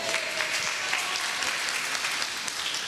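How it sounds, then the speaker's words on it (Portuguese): Audience applause at a church sermon, steady dense clapping from a crowd filling the whole stretch at an even level, no voices standing out above it. "Dá um aplauso para essa aqui."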